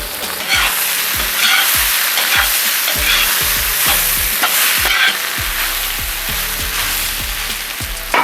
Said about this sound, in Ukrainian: з м'яса випарувалася вся волога, воно почало смажитись, з'являється перша золота скаринка